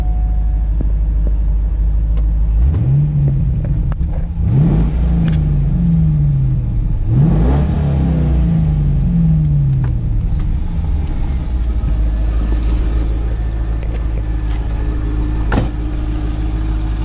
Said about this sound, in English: Got a nice idle